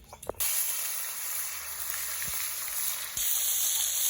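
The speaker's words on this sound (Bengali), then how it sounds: "আমার তেল খুব ভালোভাবে গরম হয়ে গেছে, তেল থেকে ধোঁয়া বেরোচ্ছে। এবার আমি খয়রা মাছগুলো ছেড়ে দিচ্ছি।" Smoking-hot oil erupts into a loud, steady hiss and crackle as khoyra fish drop in, sizzling continuously with a couple of soft knocks.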